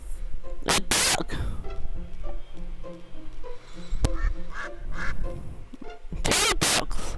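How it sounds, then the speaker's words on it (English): Ducks quacking in the Peppa Pig video game: repeated nasal quacks and honks, a couple of loud bursts near the start and end, with softer calls in between over light background music. "Two ducks."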